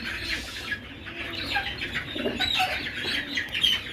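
Chickens packed into an overcrowded cage cluck and chirp continuously, a busy, close flock chatter with scattered sharper calls and some rustling movement.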